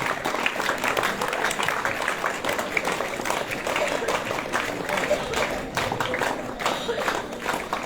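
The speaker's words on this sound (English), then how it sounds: "Scout clapping please." Scouts clapping together at a school gathering, a steady dense patter of many hands with voices and crowd noise mixed underneath throughout.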